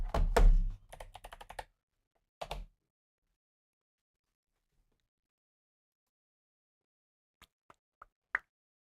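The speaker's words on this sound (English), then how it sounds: "Oh, I might need my keyboard." Quick bursts of clacking keystrokes on a computer keyboard, close and crisp, with a fast flurry at the start, a short burst after a pause, then a long silence broken by a few isolated taps near the end.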